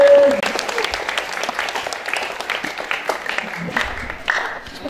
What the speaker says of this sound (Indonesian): sekali lagi beri tepuk tangan untuk teater Lembah Mana dari Satu Kudus